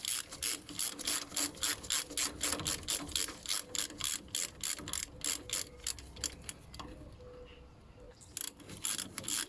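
A ratchet on a flexi-handled 14mm socket clicks in quick, regular bursts while undoing the brake caliper bolts on a ZX motorcycle, close and crisp, with a short pause before the strokes resume.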